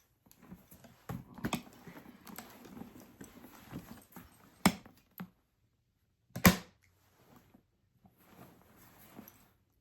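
A Coach kisslock frame bag's metal clasp snaps shut with a couple of sharp, close clicks over soft rustling handling noise, one crisp snap standing out near the end.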